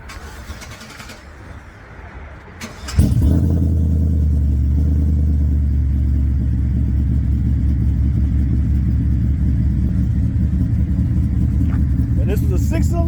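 A truck's V6 4.3 swapped to a 6.0 LS with a stage 3 cam starts up with a sharp burst, then settles into a loud, deep, lumpy idle that rumbles steadily under nearby voices.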